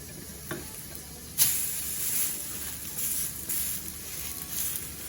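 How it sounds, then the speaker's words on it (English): Steady sizzling of French toast frying in a pan, a continuous crackling hiss with a sharper pop early on, close and moderately loud, no talking. "Just like that, and let it sizzle"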